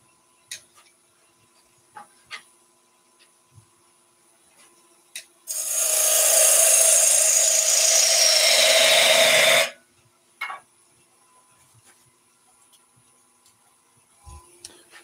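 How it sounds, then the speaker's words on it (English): A small bowl gouge cuts wood on a lathe while turning a salt and pepper grinder, producing a steady loud rasping scrape for about four seconds, framed by quiet taps and handling clicks. "Let's go small bowl gouge this time."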